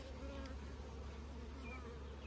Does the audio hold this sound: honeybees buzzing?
yes